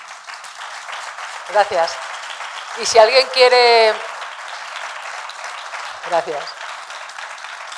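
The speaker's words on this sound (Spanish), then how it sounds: "pediros un fortísimo aplauso" Audience applause after a lecture at a cultural week event, a steady wash of clapping from a seated crowd running throughout, with a voice speaking briefly over it at intervals.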